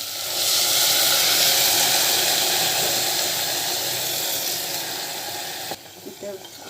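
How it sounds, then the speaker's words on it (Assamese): Hot water poured into fried khichdi in a pressure cooker bursts into a loud, broad steaming hiss that holds for several seconds and fades, then cuts off, followed by a few faint clinks. "এতিয়া অলপ গৰম পানী দি দিছোঁ"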